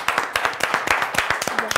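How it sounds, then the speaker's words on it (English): A small group claps for a winning team on a children's classroom quiz show: quick, sharp, distinct hand claps in an uneven rhythm, close and fairly loud, with faint voices underneath. "Come on, let's clap for them."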